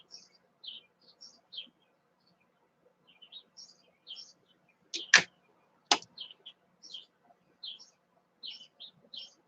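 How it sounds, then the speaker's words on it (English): Small birds chirp outdoors in short, scattered bright calls, fairly faint and intermittent, broken by two sharp clicks midway. "You guys are probably going to hear those birds chirp too."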